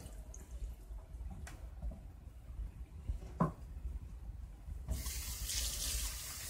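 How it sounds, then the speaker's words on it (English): Water pours into a pan, starting as faint trickles and drips, then turning into a bright, steady rush in the last second and a half, heard close with no talk. "Now what we're going to do is add about a cup of water."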